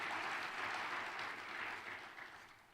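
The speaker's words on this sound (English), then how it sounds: "let's start with a huge round of applause for the 38 high school coaches we're going to honor tonight" Soft, distant applause from an audience at a high school awards dinner honoring 38 coaches, swelling and then fading toward the end.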